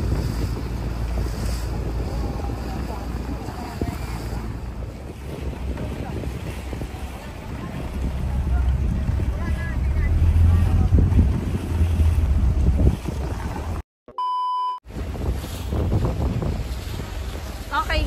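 A boat motors across open sea near El Nido, Palawan, heard from its upper deck: steady engine drone with waves and heavy wind buffeting the microphone, and voices talking underneath, with a brief dropout near the end.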